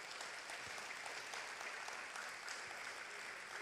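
Faint, even applause from a church congregation runs without a break, a soft distant wash of many hands clapping.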